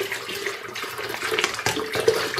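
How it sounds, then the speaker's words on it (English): Tap water poured into an electric kettle, a steady splashing pour running close and moderately loud for the whole stretch with no talk. "Then pour in the water"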